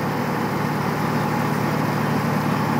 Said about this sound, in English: Start it up manually.